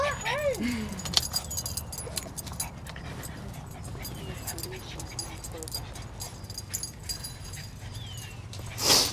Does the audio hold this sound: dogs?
yes